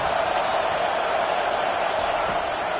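Stadium crowd in Madden, a dense roar of noise from a home crowd trying to keep the opponent pinned deep in their own end, steady and loud throughout with no distinct voices standing out.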